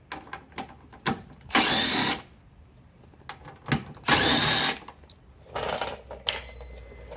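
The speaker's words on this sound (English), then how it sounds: "We'll just use power tools to remove that 10mm bolt." A power tool spins out a 10mm bolt holding the headlight of a Kia Soul, two loud whirring bursts of about half a second each with a shorter one later, separated by quiet clicks and handling noise.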